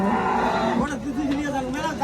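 Cattle lowing amid the murmur of a busy cattle market in Rajshahi, with people chattering nearby throughout.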